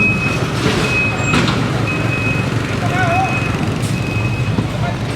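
A District 1 flood control truck on a busy Quiapo street idles with a steady rumble while a thin reversing beep repeats at regular intervals, and someone talks over the traffic noise.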